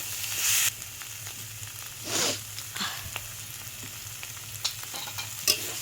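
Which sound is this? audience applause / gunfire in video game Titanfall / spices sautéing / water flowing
spices sautéing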